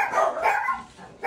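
A few nearby dogs let out three or four short, yappy barks in quick succession, loud and close.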